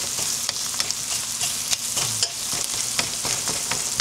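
Garlic sautéing in a pan while menudo is being cooked, a steady sizzling hiss with the scrape and clatter of stirring throughout, close and fairly loud, no talking.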